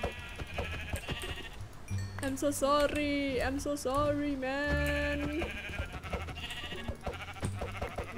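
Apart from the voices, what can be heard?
sheep bleating in the video game Minecraft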